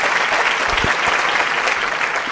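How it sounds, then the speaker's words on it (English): Studio audience applause on a Ghanaian youth debate show, a short stretch of steady, full clapping at close range. "Anyway, a round of applause once again,"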